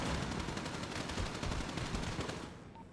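Rapid bursts of blind gunfire in a GTA roleplay SWAT engagement, dense and loud shots packed together for most of the moment before tapering off near the end.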